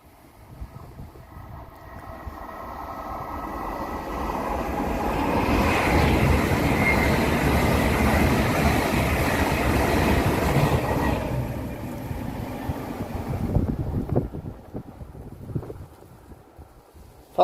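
A fast train rushes past a country lane, swelling from a distant rumble to a loud roaring wash with wind buffeting, then fading away.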